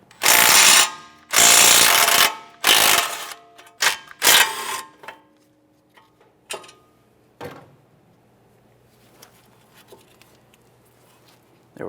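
Ratchet loosening and spinning out 17mm caliper bracket bolts on a 2015-2019 Subaru Outback during a front brake job: several loud, close bursts of rapid clicking in the first five seconds, then fainter scattered clicks and handling noises.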